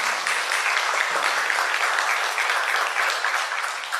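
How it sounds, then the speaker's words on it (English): Applause from an audience at an open forum on rice variety adoption, a steady dense clatter of many hands clapping that holds at an even level throughout without pause. "Let us all give Dr. Jaime a big round of applause."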